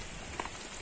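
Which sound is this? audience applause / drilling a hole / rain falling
rain falling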